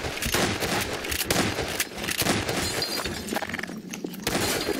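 Shotgun fire in the Garry's Mod video game: a rapid run of loud, sharp blasts with breaking-glass crashes, dense and continuous through the whole stretch.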